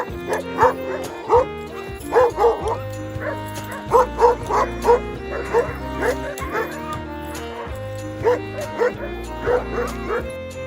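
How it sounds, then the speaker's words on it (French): Sled dogs bark and yip repeatedly in winter, close and loud in uneven bursts, with whimpers in between. "faire découvrir le chien de traîneau"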